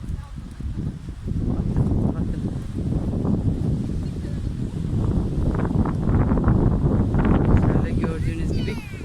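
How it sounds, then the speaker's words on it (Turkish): Strong wind on a seaside cliff in Antalya, Turkey buffets the microphone in a continuous roaring rumble, gusting louder and softer throughout, with a voice faintly mixed in. "Acayip de bir rüzgar var."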